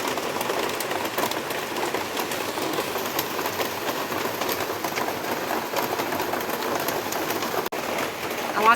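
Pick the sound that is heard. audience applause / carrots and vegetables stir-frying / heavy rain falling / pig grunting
heavy rain falling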